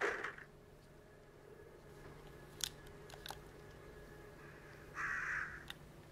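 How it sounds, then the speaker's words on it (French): Crows caw inside the survival-horror video game Resident Evil 2, two brief harsh calls, one at the start and one near the end, over a steady low ambient hum with a few faint clicks between. "Ça avait plutôt l'air d'être des sons de corbeaux."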